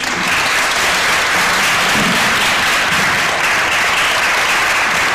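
A large audience applauding steadily, a dense, even roar of clapping that holds at full volume throughout.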